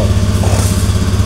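An automatic scooter engine idling after a starting fault, a close, steady, throbbing putter with a regular low pulse, loud and alone.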